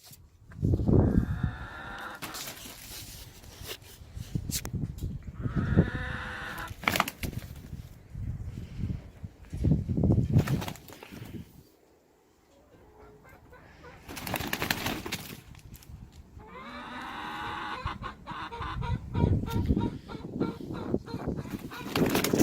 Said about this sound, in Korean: 선생님이 닭싸움과 관련된 영상을 하나 준비했는데 보고 29쪽으로 넘어가도록 하겠습니다.